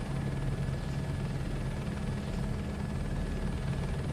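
A helicopter in flight in Microsoft Flight Simulator 2024, flying a crop-dusting run, heard as a steady, low, throbbing rotor drone with an even engine hum that holds constant throughout, with no talking.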